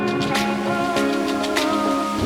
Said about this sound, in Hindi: वहां पहुंचते ही बारिश स्टार्ट हो गई